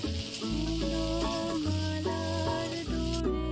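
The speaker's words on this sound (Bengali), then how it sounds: "তারপর আমি জন্য যত পেঁয়াজ ছিল সব দিয়ে দিলাম দিয়ে বেশ কিছুক্ষণ নাড়াচাড়া করে নেবো পেঁয়াজটা যতক্ষণ না লাল লাল হয়ে আসছে" Onions frying in mustard oil in a pan and being stirred, giving a steady sizzling hiss under louder background music with a low, continuous presence throughout.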